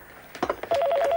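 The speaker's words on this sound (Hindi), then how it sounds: "फोन भी गलत टाइम पे आता है।" A telephone goes off with a brief electronic tone after a few soft clicks, its steady pulsing electronic tone holding clear and close until the end.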